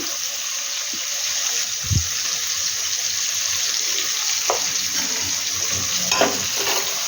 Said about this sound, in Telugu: చూడండి, కొంచెం కొంచెం ముక్కలు అనేటివి ఫ్రై అవుతున్నవి.